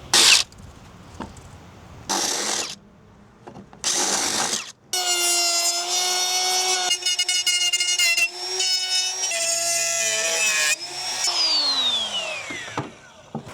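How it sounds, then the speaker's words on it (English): Router cutting out a drilled hole in wood for an outdoor stool: short bursts of a high-pitched whining motor, then a longer sustained screaming run that winds down at the end, loud and close. "I'm gonna stick the router in there and route that out"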